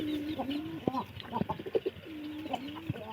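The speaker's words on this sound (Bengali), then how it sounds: "আমাদের নতুন কবুতর নিয়ে।" Newly bought pigeons cooing in a loft, low repeated coos rising and falling in short phrases close by, with scattered soft calls and rustles between them.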